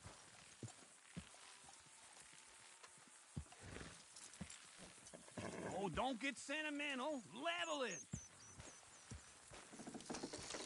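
Horse hooves clopping in the Red Dead Redemption 2 game, with scattered footfalls and a loud whinny in the middle, all under ongoing talk.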